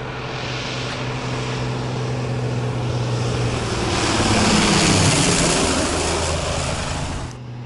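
Steady aircraft engine drone at an airport in Peru, a loud continuous roar with a low propeller-like hum that swells slightly toward the middle and then eases off, with no talking.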